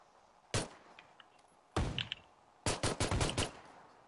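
Gunfire from the battle-royale shooter PUBG: a single loud shot, then a second burst, then a rapid volley of several close, sharp shots in quick succession, with no talk over them.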